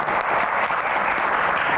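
A studio audience at an Indonesian talk show bursts into loud, sustained applause, a dense and even wash of clapping that carries through the whole moment.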